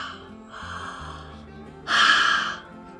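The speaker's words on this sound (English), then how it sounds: "Open your mouth like you're going to fog up the mirror." Open-mouthed ujjayi-style breath exhaled as if fogging a mirror, a soft airy huff rising into a louder breathy exhale, heard close and alone without talk.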